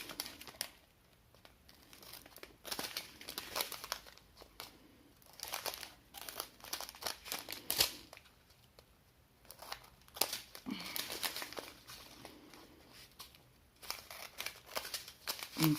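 Scissors snipping through a diamond painting canvas, quiet irregular crinkling and cutting sounds with scattered sharp snips, up close and low in level.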